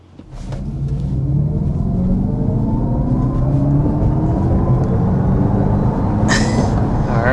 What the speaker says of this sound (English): that was above 60 miles per hour in the RT version of the Charger Daytona